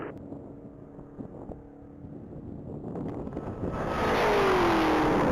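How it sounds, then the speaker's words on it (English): A silver 2023 Dodge Charger SRT Hellcat races down a track in a top speed mile event. Its engine noise builds from distant and faint to a loud, close roar with wind buffeting, and a rising whine sweeps through near the end. "on track is going to be David Williams in his silver 2023 Charger SRT Hellcat"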